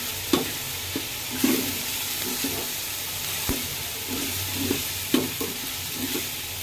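Garlic, ginger and nut paste fries in a pan while being stirred, giving a steady sizzle broken by irregular scraping and clacking strokes of a spoon, close and moderately loud, with no talking.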